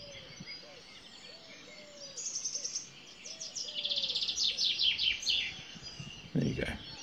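A chaffinch sings a repeated phrase of bright descending notes from a tree in a dawn chorus, with other birds calling faintly around it and a brief rustle near the end.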